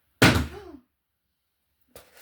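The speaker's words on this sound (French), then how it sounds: "c'est un tarot suicidaire qui vient de sauter du haut du meuble." A tarot card deck drops flat off the top of a piece of furniture, landing with a single dull, close thud, followed by a quieter knock a moment later.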